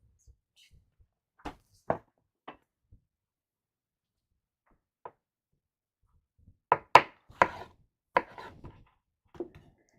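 A knife chops food on a cutting board during meal prep for pasta marinara and stuffed mushrooms, in scattered taps: a few isolated knocks early, then a quicker cluster of chops.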